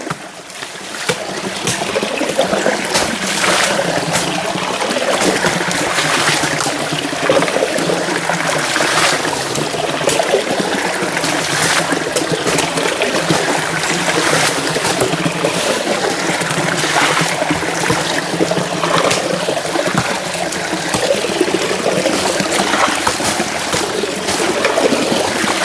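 Water trickles and splashes steadily from a spring as someone fetches water, a continuous close bright wash of flowing water with no talk over it.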